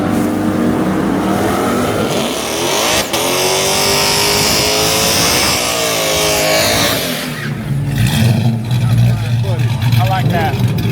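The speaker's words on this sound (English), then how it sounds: "Now that's a burnout right there, buddy." A drag racing truck at a Mopar drag strip event does a burnout, engine roaring loud and sustained with screeching tyres and revs rising and falling, people talking over it.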